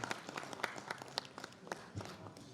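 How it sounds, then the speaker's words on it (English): Scattered audience clapping at a school conference, a thin, uneven patter of separate hand claps, fairly quiet and with no talk over it. "can we have a huge round of applause?"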